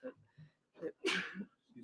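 A single sharp sneeze bursts out amid quiet, breathy vocal sounds, close to the microphone.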